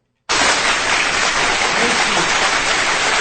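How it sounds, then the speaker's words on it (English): A hand-clap sound effect cuts in abruptly after a brief silence and runs as a loud, dense, continuous burst of clapping, like a crowd applauding, with no voices over it. "Put hand claps."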